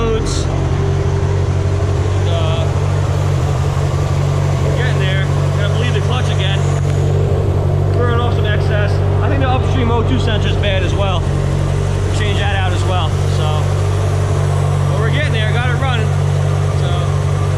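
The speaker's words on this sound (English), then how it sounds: "The exhaust is super loud." A car with an SRT engine swap idles, running rich, its loud exhaust giving a steady low rumble throughout while someone talks over it close to the microphone.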